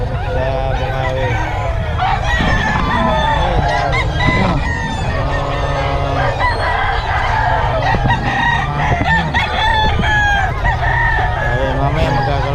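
Several roosters at a cockfighting venue in Bocaue, Philippines, crow loudly and repeatedly, overlapping one another alongside clucking. A steady crowd murmur and nearby voices run underneath.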